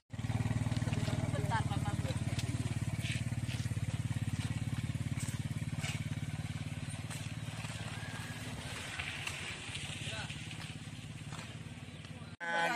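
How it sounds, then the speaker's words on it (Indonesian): Motorized pedicab (becak motor) carrying riders, its small engine droning steadily and close for most of the ride before cutting off abruptly near the end. "terus naik ke becak motor ke lokasinya"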